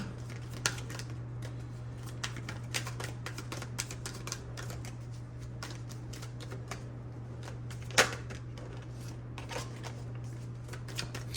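Tarot cards are shuffled close by, producing a stream of soft, irregular flicks and snaps over a steady low hum, with no talking.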